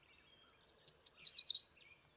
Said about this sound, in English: okay, that's a yellow warbler